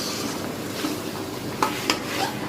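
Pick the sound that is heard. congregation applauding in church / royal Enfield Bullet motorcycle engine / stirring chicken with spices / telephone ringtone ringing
stirring chicken with spices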